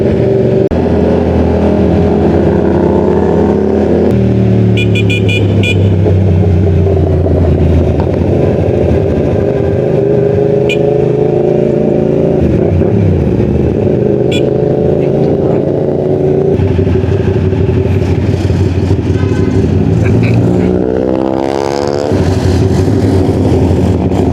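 Eight motorcycles rev and accelerate loudly nearby, engines rising and falling in pitch continuously, with a few brief horn-like tones.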